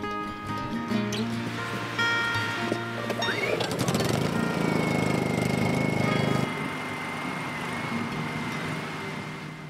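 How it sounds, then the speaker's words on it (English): A chainsaw cutting a notch in a board for an outhouse seat, off grid near Lake Superior; the engine revs up into a loud, rough cutting roar for a few seconds, then drops back to a steady idle. "So we're just going to make a notch with this chainsaw real quick."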